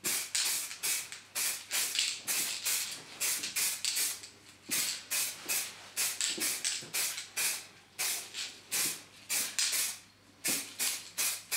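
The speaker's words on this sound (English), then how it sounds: "you can then proceed to spray the metal" Rust-Oleum Surface Primer sprays from an aerosol can onto galvanised steel in repeated short, loud hissing bursts up close, separated by brief gaps.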